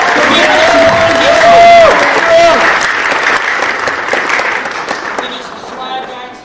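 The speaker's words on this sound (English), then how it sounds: "let's give them a round of applause" Students at a school assembly give loud, close applause with cheering and a shrill whistle. The clapping slowly thins out as scattered talk takes over.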